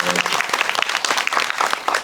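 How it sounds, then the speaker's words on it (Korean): Audience applause at a cinema talk for the Korean film 'Extreme Festival' makes a short burst of dense, lively clapping from a room full of people, lasting about two seconds. "박수 한번 주세요"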